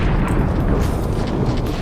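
A bazooka shot in the BloodRayne video game, a loud, dense boom that fills the whole clip with sustained low rumble and no clear gaps, heard alone without talk.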